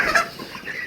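Chickens on a broiler farm, the birds four weeks old, give soft scattered clucks close by, a brief murmur of poultry with no talking.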